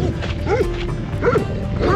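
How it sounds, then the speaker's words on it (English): A dog barks in the countryside of Georgia during a run, three sharp close barks spaced roughly evenly apart, loud and clear over faint background noise. "This is a dog."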